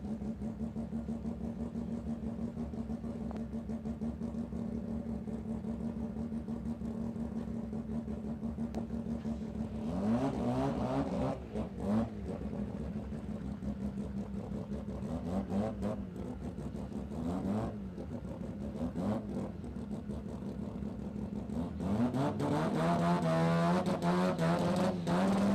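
A turbocharged billet 13B rotary engine in an RX2 sedan drag car drones steadily at a dragstrip test day, then surges in loud revving bursts as it accelerates, with no voices.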